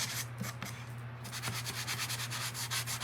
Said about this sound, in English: It just needs a little bit of sanding.